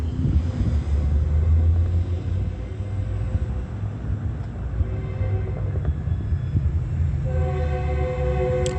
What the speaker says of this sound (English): That's Metrolink that is crossing path at 1:13 p.m. going westbound.